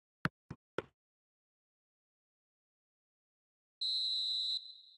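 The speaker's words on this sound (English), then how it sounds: "And the whistle goes for half-time." A referee's whistle for half-time in an eFootball match, a single sustained shrill blast lasting under a second, preceded by three sharp isolated clicks and otherwise near silence.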